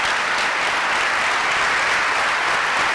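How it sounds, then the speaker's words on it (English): Steady audience applause during a governor's opening address, a dense even wash of clapping filling the short stretch without any speech over it. "come on, clap for that."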